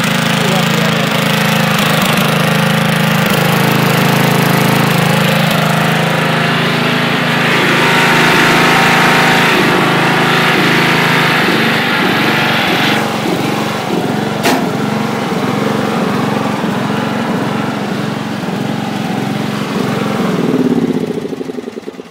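A 1985 Craftsman II lawn tractor engine runs steadily and loud for the whole stretch, a continuous mechanical drone with slight shifts in pitch and roughness, close to the listener.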